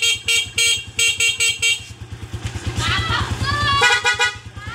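A Euro 150 motorcycle horn beeps in several short bursts, then sounds longer over an idling engine, loud and close.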